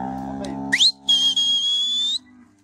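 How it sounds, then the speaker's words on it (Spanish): A person whistles loudly to call cattle out of a pen, a short rising whistle followed by a long sustained high note, close and clear over a low background hum. "Ay, disculpen, muchachos, porque estoy chiflando aquí"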